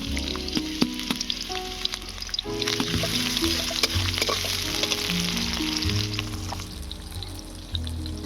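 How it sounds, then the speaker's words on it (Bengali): Chopped onion fries in mustard oil with a loud, constant sizzle while background music plays underneath. "এবারে দিয়ে পেঁয়াজ কুচি।"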